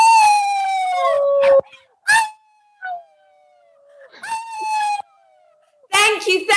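A voice howls like a wolf, imitating the animal in long rising and falling wails broken by short gaps and a few sharper yelps, loud and close with no other sound.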